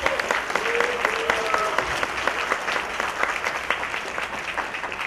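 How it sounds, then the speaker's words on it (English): Audience applause for a keynote speaker at a Toastmasters gathering, a loud, dense round of clapping that fills the room evenly from start to finish. "Give him another round of applause."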